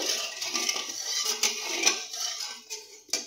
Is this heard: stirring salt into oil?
yes